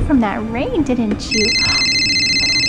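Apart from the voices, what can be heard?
mobile phone ringing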